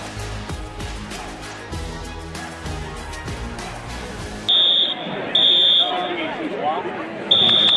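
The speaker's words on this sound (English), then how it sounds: "Somebody pulled the fire alarm over by the restroom, apparently." A school fire alarm, pulled near the restroom, sounds in a gym during a basketball championship game, its shrill electronic buzz cutting in and pulsing in loud repeated bursts over crowd noise and bouncing balls.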